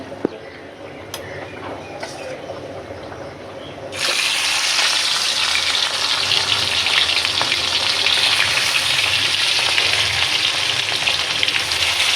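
Oil sizzles and fries steadily in a pan for cooking fish seasoned with turmeric and salt; a quieter hiss for the first four seconds jumps to a loud, continuous crackle that holds to the end.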